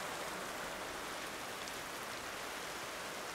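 Steady, faint hiss of falling rain, an even wash of patter with no voices or other sounds.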